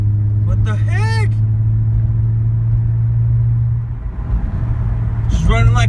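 A 350 car's engine idles with a steady, loud low rumble throughout, while speech briefly rises over it near the beginning and again at the end.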